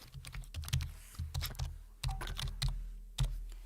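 Fingers typing a username and password on a computer keyboard, producing irregular bursts of close, crisp key clicks with short pauses between runs.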